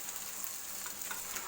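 Macaroni with masala being stirred and mixed in a frying pan, giving a steady close sizzle with soft scraping of the stirring, alone without voices.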